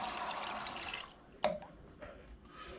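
Water poured into a pot of pinto beans, a close splashing pour that stops abruptly about halfway through, followed by faint drips in a quiet kitchen.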